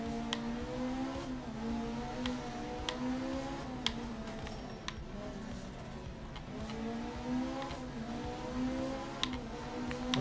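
Rally car engine in the racing game art of rally, steadily revving and accelerating through a run of curves, with a continuous droning tone that rises and falls alongside sharp ticks and clicks.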